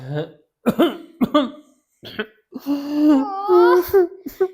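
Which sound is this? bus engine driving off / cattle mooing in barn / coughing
coughing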